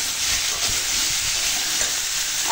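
Pumpkin and potato pieces fry in a pan seasoned with turmeric and salt, giving a steady, close sizzle that holds evenly throughout with no voices.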